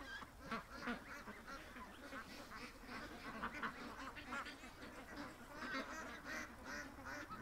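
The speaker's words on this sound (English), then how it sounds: "That's my Muscovy duck." A Muscovy duck kept on a home flock at feeding time calls with repeated soft quacks and honks, mixed with other ducks nearby, fairly quiet and continuous with no speech.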